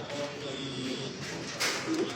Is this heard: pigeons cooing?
yes